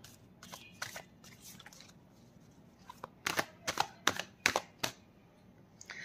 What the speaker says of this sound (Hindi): चलिए थोड़े से मैं एकाध कार्ड और निकाल लेती हूँ।